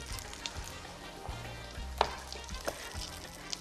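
Small apple pieces spread across a pan fry gently in almond oil and butter, a soft steady sizzle with a few faint pan taps.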